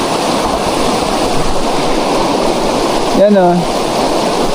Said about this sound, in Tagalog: Tanging lagaslas lang ng ilog yung inyong maririnig.